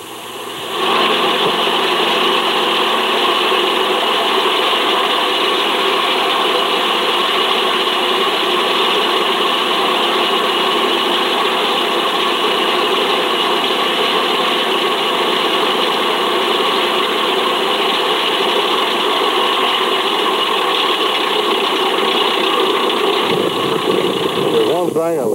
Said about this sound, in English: Sitting here drilling is not really that bad because you're just running the machine.